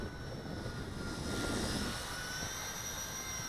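A Blade 200 SR X brushless remote-control helicopter's high, whirring buzz hums steadily, moderately loud with a thin whine on top, and no voices.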